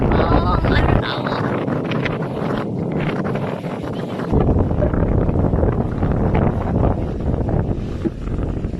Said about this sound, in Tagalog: Mahangin na siya.